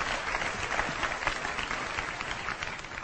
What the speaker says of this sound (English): Get a round of applause, guys.